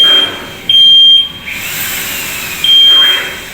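A smart home smoke detector sounds its alarm in two loud, steady high-pitched tone bursts separated by a pause, with no talking over it.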